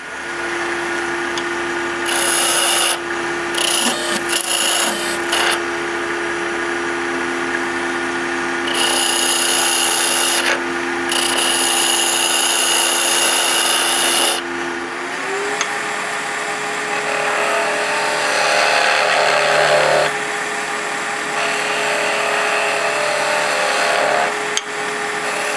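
A skew chisel cuts wood turning on a lathe: a steady motor hum runs underneath, and bursts of bright, hissing cutting noise come and go in several separate passes, with the tone shifting partway through.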